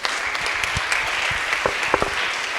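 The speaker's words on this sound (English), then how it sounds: "a big round of applause to this question" Audience applause at a motivational speaking event, a dense steady round of clapping from a crowd, fairly loud and sustained with a few sharper claps standing out, no talking.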